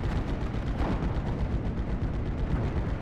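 Dense battlefield rumble from Steel Division: Normandy 44, with Panzerfaust anti-tank shots and explosions blending into a continuous heavy roar of booms and gunfire, steady and loud throughout with no talking.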